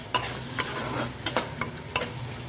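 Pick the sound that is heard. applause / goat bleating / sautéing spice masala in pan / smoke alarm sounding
sautéing spice masala in pan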